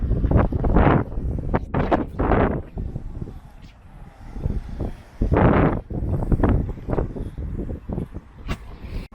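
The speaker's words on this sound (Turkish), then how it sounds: "Hava acayip rüzgarlı." Strong wind in Hamburg buffets the microphone in loud, roaring gusts that rise and fall, with brief lulls between blasts.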